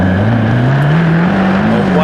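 Race cars at a restart roar down toward turn one in a loud, sustained engine drone whose pitch climbs steadily, with a commentator talking over the noise.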